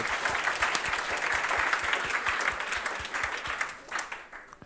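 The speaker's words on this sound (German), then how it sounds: "Und da nochmal einen herzlichen Applaus für diese Gruppe." An audience at a Jugend hackt 2019 youth hackathon final presentation in Rostock applauds a project group, with steady, dense clapping that fades slightly near the end.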